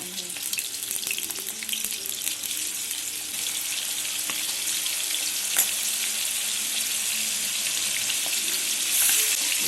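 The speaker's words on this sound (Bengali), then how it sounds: "আমি মাছগুলো হাই ফ্লেমে ফ্রাই করছি" Prawns frying in hot oil over a high flame for chingri malaikari: a dense, loud, continuous sizzle with occasional sharp pops and clicks, close by and without speech.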